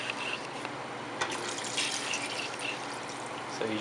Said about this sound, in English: We're gonna go ahead and add in some water.